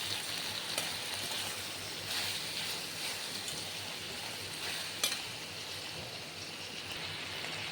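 Chopped tomato pieces stirred into ivy gourd chutney in a hot pan, a steady broadband sizzle with faint scraping of the spoon, close and continuous throughout with no talking.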